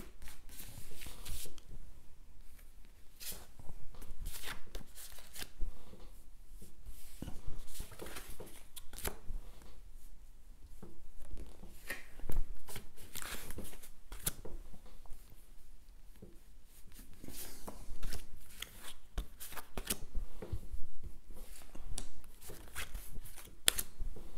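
Tarot cards are shuffled by hand for a nine-card spread, a long stretch of soft, close papery riffles and slides in uneven bursts with brief pauses between them.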